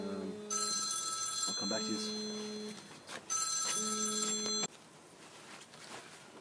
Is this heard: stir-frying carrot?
no